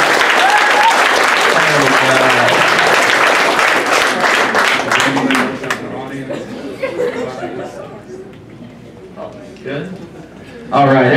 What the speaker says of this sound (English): let's give my volunteers a round of applause